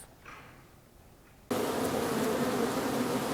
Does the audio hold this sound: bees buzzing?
yes